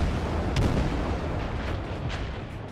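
Ship artillery in the naval combat game World of Warships booms in a heavy, dense rumble that swells early and then slowly rolls away.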